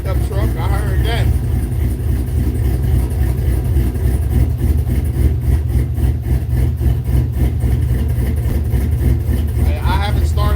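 A pickup truck engine, started after sitting four or five days, idles with a deep, steady rumble throughout, loud and close, while someone talks over it.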